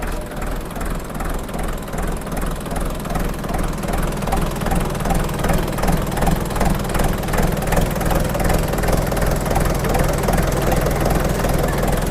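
A 2003 Sonalika 60 tractor diesel engine runs steadily after a self start, a loud, close, rhythmic chugging idle that holds constant throughout with no talk over it.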